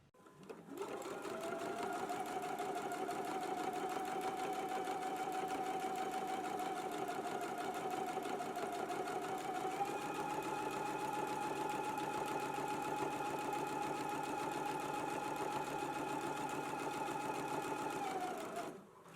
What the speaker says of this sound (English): Now we can go to the sewing machine and we can begin stitching 1/4 of an inch away from our seam.